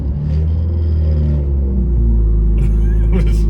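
A turbocharged Chevy Cruze idles in traffic, its engine giving a loud, steady low rumble throughout, with a few faint higher sounds near the end.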